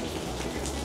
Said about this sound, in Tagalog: Umuulan. Parang bumabagyo ng konti.